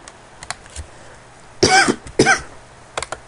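Two loud, close coughs from one person follow each other about half a second apart, with faint scattered taps and quiet room noise before and after.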